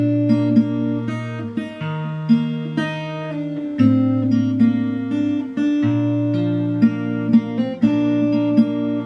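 Fingerstyle acoustic guitar playing the verse of King of Kings, with a plucked melody over deep bass notes in a steady, flowing rhythm, clear and close with no voices.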